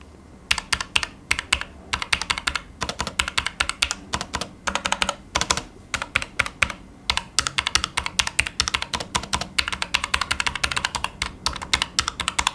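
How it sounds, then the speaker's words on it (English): Fast, steady typing on a Logitech MX Mechanical Mini keyboard with red linear switches, a dense run of close, crisp key thocks and clacks with brief pauses between bursts. "And this is how the linear keys sound."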